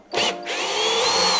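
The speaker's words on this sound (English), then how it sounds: "I think I need different screws. Yeah, these just keep on turning." A power drill driving screws into a 19-inch rack; after a brief start it whines steadily and loudly at close range, with no talking.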